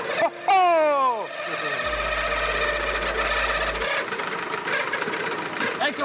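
A 1929 Citroën AC4 engine running after being restarted, settling into a steady close chugging idle after a brief rising whine at the start, with people talking over it.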